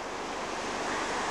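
Ocean surf on a beach in Goa, a dense, steady roar of breaking waves with wind buffeting the microphone, loud and continuous throughout.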